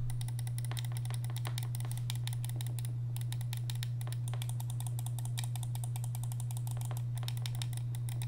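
Rapid, crisp clicks from the buttons of a SteelSeries Rival 110 gaming mouse, tapped repeatedly at close range over a steady low electrical hum, with no voices.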